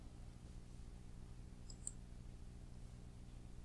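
A computer keyboard and mouse give a few faint, quick clicks during copy-and-paste in Word, set against a quiet, low hum.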